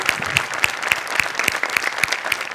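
An audience at a Marathi comedy stage show claps in steady rhythmic unison, each beat crisp and evenly spaced, loud and close with no talking.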